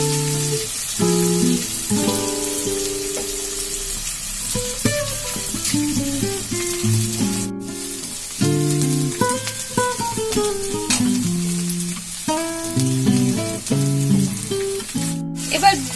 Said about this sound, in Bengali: কচুগুলোকে একটু লাল লাল করে ভেজে নেবো